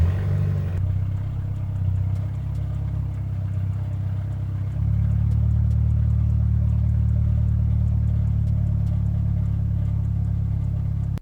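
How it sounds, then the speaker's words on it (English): A lowered stance car starts with a brief crank, then idles loud and rough through an open catalytic converter with no exhaust fitted, its note stepping up partway as the rumble settles into a steady throb. "Let's start up the car and set this pressure."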